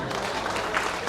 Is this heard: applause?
yes